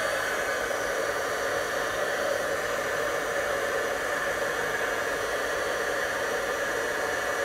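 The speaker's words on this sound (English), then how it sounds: "take my heat tool and heat it up just a bit. And then I'll just melt it." A heat tool runs steadily to melt copper embossing powder on a Stampin' Up! card, a constant close blowing hiss like a hair dryer with no pauses.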